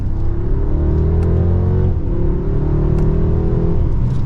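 A 2023 BMW 7 Series luxury sedan accelerates smoothly in Sport Plus mode, its engine note climbing steadily with a brief dip at a gear change before it rises again, a loud, even cabin hum throughout.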